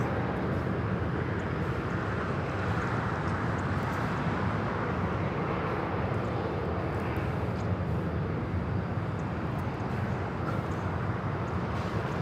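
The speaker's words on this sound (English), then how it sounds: "That's a Cessna Citation 10 taking off to White Plains XO" Cessna Citation 10 business jet taking off at Los Angeles International, a constant broadband jet roar holding steady throughout, fairly close and uninterrupted.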